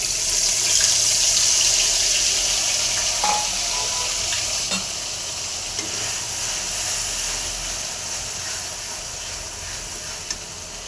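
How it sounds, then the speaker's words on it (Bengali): Onion paste sizzles steadily in a hot pan as it is stirred, a continuous close frying hiss with occasional scrapes and clinks from the spoon. "পেঁয়াজ বাটা দিয়ে কিছুক্ষণ নেড়ে"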